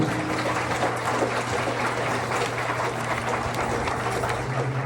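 Wedding guests applaud after the marriage is pronounced, a steady wash of many hands clapping together across a hall, continuous and even in loudness for the whole stretch.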